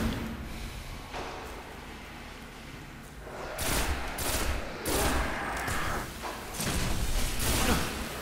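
Dense gunfire crackles in Destiny, with bursts of rapid automatic shots and heavier blasts trading back and forth, loud and continuous over a noisy game backdrop.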